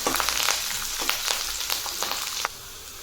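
Cumin and mustard seeds crackle and sizzle steadily in hot oil, a close, continuous frying hiss with scattered popping spurts and no voices.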